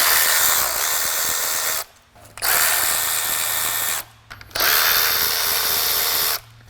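A power tool whines steadily in three long bursts with brief pauses, spinning off the 10 mm coil pack nuts on an Acura TL engine, loud and close.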